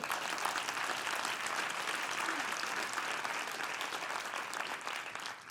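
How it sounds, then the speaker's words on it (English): A conference crowd at a media summit's closing plenary gives a continuous, even round of applause, dense and steady for several seconds before easing slightly at the end. "That deserves a round of applause."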